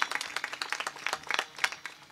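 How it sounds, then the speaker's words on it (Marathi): Audience clapping for schoolgirl performers at a devotional kirtan gathering, a steady patter of many hands at moderate distance, uneven and continuous for the whole moment with no talk. "त्यात जोरदार टाळ्या वाजवा त्यांच्यासाठी."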